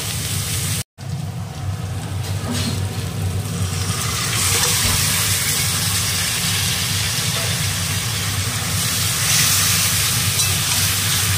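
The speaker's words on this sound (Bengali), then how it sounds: "এবার মাটনটাও এবার ভালো করে কষিয়ে নেব।" Marinated mutton frying hard with onion and ground spice paste in a hot pan, a steady loud sizzle and hiss that swells after a brief dropout and keeps going with no voices.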